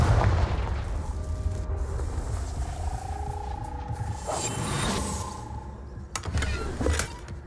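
A Confringo fire-blast spell erupts in Hogwarts Legacy, its booming bursts landing in the second half with crackling transients near six and seven seconds over continuous game ambience.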